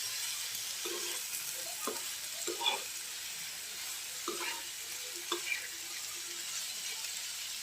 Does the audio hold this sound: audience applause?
no